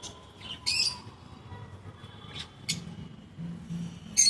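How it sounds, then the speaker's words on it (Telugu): Birds squawk at a Pochamma temple on JNTU Road in Hyderabad, with several short, bright calls scattered through a quiet outdoor background and a low rumble underneath. "ఇక్కడ బర్డ్స్ ఉన్నట్టు చూద్దాం మామూలుగా."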